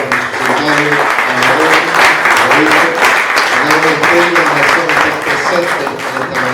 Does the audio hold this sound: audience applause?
yes